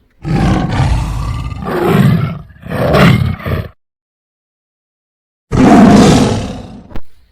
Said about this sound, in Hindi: वो गुस्से में दहाड़ने लगा और कुएं में उसकी आवाज गूंजने लगी।